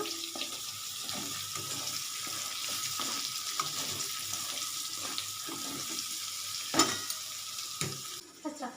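Steady sizzling of semolina frying in a pan with repeated scraping strokes of stirring, fairly quiet and close, with no voices.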